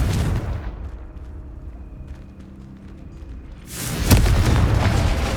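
Confringo explosive spell in Hogwarts Legacy, a low rumbling boom that settles into a quieter lull before a sharp, loud blast bursts out near the end.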